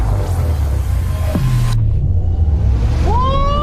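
A Chevrolet Blazer EV SS electric SUV accelerating hard in wild mode at a speed festival, a loud sustained low rumble with a rising electric motor whine near the end.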